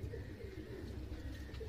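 Several pigeons in a backyard breeding setup coo in low, continuous overlapping murmurs, fairly close and steady throughout with a soft background hum.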